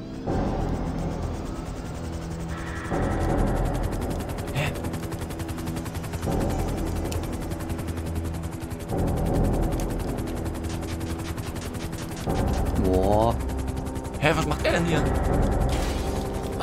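Automatic gunfire in GTA Online aimed at an aircraft flying overhead, with dense rapid bursts over a droning engine and propeller hum that swell and pause in long stretches, loud and continuous.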